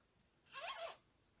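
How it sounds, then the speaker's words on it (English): A zipper on a Strange New Worlds medical uniform tunic being pulled down: a single quick rasping zip lasting about half a second, close and clear against a quiet room. "and then it zips down"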